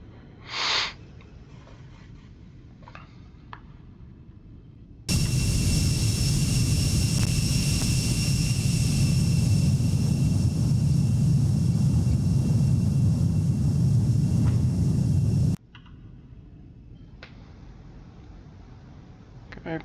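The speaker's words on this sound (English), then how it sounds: "Okay, plane's accelerating." Embraer E175 jet airliner accelerating in flight, heard as a loud, steady broadband engine and airflow roar with a faint high whine that starts abruptly and holds for about ten seconds, framed by quieter cabin sound.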